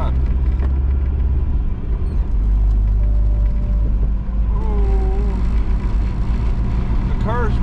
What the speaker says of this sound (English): The car's running pretty rough.